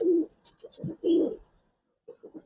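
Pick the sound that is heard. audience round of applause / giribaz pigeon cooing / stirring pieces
giribaz pigeon cooing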